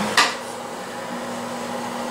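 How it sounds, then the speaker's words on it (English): A coin-operated clothes dryer runs in an apartment laundry room with a steady, moderately loud hum and whir. A brief knock sounds near the start, and the hum continues unchanged with no talking. "There's a coin operated dryer here."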